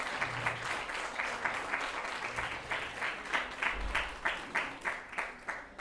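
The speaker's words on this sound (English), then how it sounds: "one more big round of applause to welcome them" A room of audience members claps steadily to welcome a child's parents at a spiritual gathering, a dense even patter with a few louder individual claps near the end and no voices.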